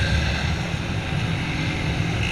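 A Honda Fan 160 motorcycle with a tin exhaust drones steadily and loudly while riding, a close, continuous low engine rumble.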